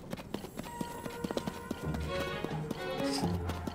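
In Zelda: Tears of the Kingdom, a phantom horse gallops with rapid, rhythmic hoofbeats that draw close amid game effects, and there is a brief whinny and some speech in the background.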